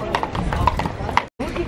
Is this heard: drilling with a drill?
no